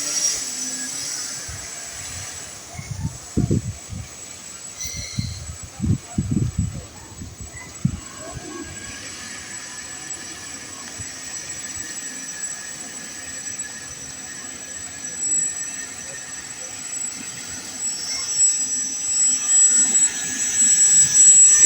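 A flying amphibious RC car-boat runs across water in boat mode, its small electric motor giving off a thin, steady high-pitched whine over faint background rumble, with a few bumps and knocks early on.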